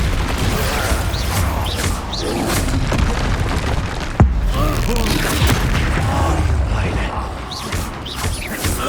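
Expulso explosion spells cast in the game Hogwarts Legacy, with heavy booms and crashing impacts amid busy combat effects and one sharp blast standing out near the middle, loud and dense throughout.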